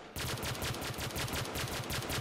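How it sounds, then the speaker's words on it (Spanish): Rapid three-round bursts from an FAL rifle in a zombie shooter game repeat in a steady, loud rhythm, each burst a cluster of sharp cracks close to the listener, with no voices. "Ráfagas de tres tiros."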